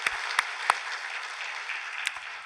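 Steady applause from a church congregation during a Sunday service, continuous clapping at an even level with a few sharper claps standing out, no voices.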